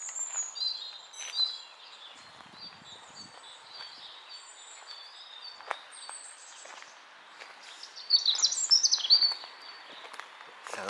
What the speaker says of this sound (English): Sounds like a robin or a blackbird.